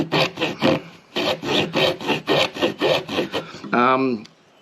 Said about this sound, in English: you can use a proper hacksaw with the blade